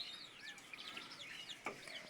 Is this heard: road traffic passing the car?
no